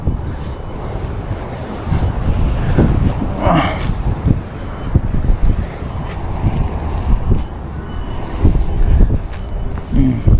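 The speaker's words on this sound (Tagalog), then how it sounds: "Lakas ng hangin." Strong wind buffets the microphone beside the sea during shore fishing: continuous rough, rumbling gusts that swell and ebb over surf-like wash, loud and close throughout.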